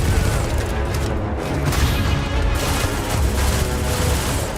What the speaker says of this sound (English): These are high-powered electromagnetic induction ballistic arrays. Each barrel has its own targeting laser and can dish out some serious damage.